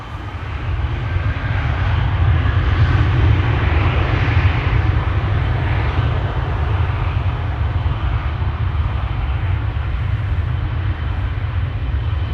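A 17-year-old KLM Boeing 777-300 airliner at Schiphol Airport gives a steady, loud jet engine roar with a heavy low rumble that holds nearly level throughout, with no voices.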